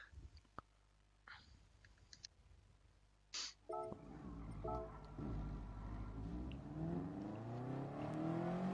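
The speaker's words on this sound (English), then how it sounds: "Oh, these cars sound nice." Race car engines in a racing video game rev and rise in pitch as they accelerate, starting after a few clicks and building into a steady, loud whine.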